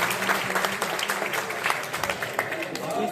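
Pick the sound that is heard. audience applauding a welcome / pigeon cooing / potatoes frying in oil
audience applauding a welcome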